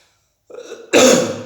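A single harsh cough from a cold bursts out close to the listener after a brief soft throaty rumble.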